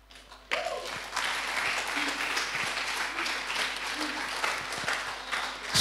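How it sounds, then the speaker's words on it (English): Audience applause fills a university counselling centre seminar hall, a sustained wash of clapping that starts abruptly and holds steady at moderate loudness for several seconds. "You are clapping well."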